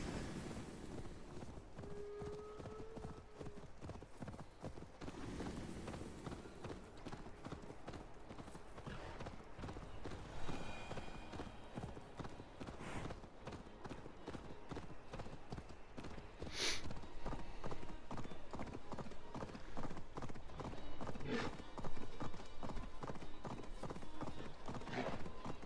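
A horse gallops in the video game Assassin's Creed Valhalla, fast rhythmic hoofbeats pounding continuously and close by over a steady outdoor background.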